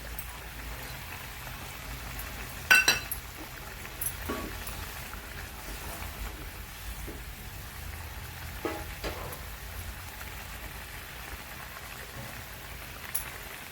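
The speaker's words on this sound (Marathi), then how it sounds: "त्याला छान अशी उकळी आलेली आहे याच्यात आपण ही कोथिंबीर घालत आहोत" Gravy at a rolling boil as fresh coriander is added, a soft continuous bubbling and popping texture with a few sharper clinks and taps from the pot, fairly quiet and close.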